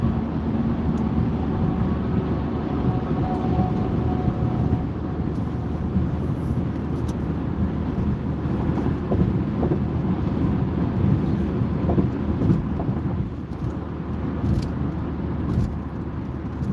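Cars and trucks on a road, heard from inside a moving car as a steady, continuous rumble of traffic and road noise with no talking.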